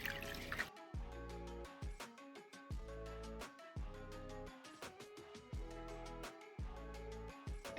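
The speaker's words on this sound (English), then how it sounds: "Add some water." Distilled water poured into a container while cleaning parts of a Corsair XC7 CPU block, heard as a near, steady trickling pour broken into repeated short bursts with bright dripping splashes, no talking.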